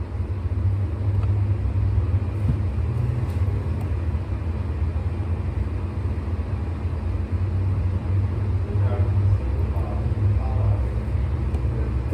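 Race cars running in a pack on an oval track, a steady loud engine roar and rumble that holds throughout without breaks.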